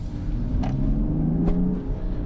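Mercedes GLE AMG SUV engine in sport mode, a steady loud drone with rising revs as the engine climbs smoothly, heard from inside the cabin during a night drive.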